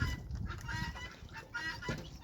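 Several ducks quack and honk close by in a noisy, overlapping cluster of nasal calls, on a muddy farmyard.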